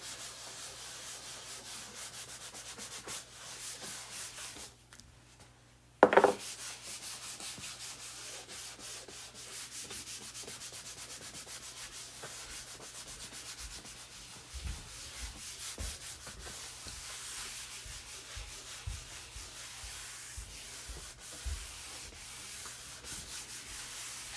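Steady rubbing of wax by hand onto a rustic round wooden medallion, a continuous scuffing texture that runs on and off through the clip, with a sharp knock partway through and faint thumps later.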